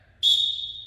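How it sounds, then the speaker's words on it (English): A wrestling coach blows a single sharp whistle to start a drill, a loud, steady, shrill tone that begins abruptly and holds to the end. "we're still gonna do on the whistle for now"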